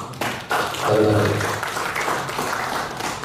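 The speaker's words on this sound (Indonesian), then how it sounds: "Terima kasih. Tepuk tangan." Applause from a crowd at an Indonesian radio amateur association assembly rises sharply and holds steady, a dense wash of clapping with a bit of voice mixed in, fading slightly toward the end.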